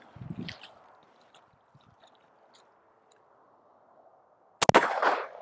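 A Glock 19 pistol fires a single sharp shot at a steel target 25 yards away on an outdoor range, followed by a bright metallic ring. The shot comes after several seconds of near silence.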